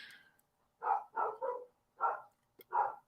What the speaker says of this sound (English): my dog's barking outside